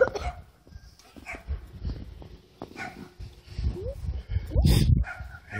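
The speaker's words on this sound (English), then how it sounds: "little dog barking." A small dog barks and yips in short bursts, fairly close, with a louder cluster of barks near the end.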